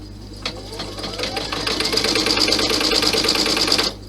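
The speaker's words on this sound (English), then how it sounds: "You can slow the needle down by keeping your finger on the start position, on the start button." A sewing machine stitches slowly across a satin stitch on a cross-body messenger bag, its motor whirring up after a brief start and running steadily for about three seconds before stopping abruptly, close and fairly loud.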